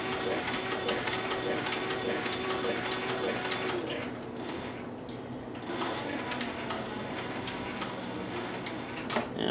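Close and steady, a sewing machine stitches leather for a long hunter's bag, its rapid mechanical ticking running continuously, softening slightly partway through and then carrying on, with no talking.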